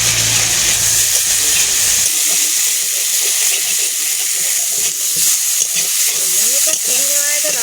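Mixed garden greens and prawns fry in a pan with a loud, continuous sizzle and crackle, plus occasional stirring scrapes, after a brief low rumble at the start.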